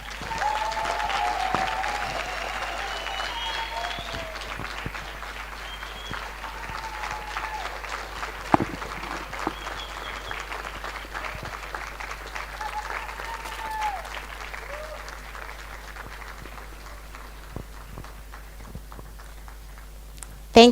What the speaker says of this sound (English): We clap until she sits down.